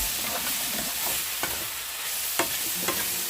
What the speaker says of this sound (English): a little salt and a little pepper for the mushrooms, and then stir them into the heat.